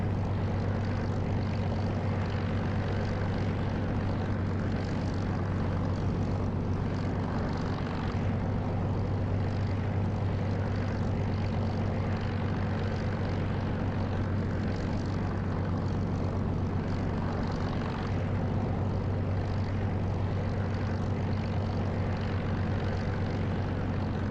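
A Spitfire's piston engine drones in the DCS flight simulator, a loud, steady, low propeller roar that holds throughout with slight swells and no talk.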